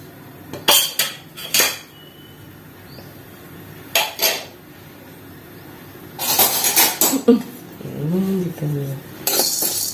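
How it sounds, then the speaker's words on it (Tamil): Pepper, cumin and fennel seeds dry-roasting in a pan give off bursts of metallic clinks and scraping clatter, spaced irregularly and close by, with a brief murmuring voice near the end. "மிளகு சீரகம் சோம்பை வறுத்துடுறோம்"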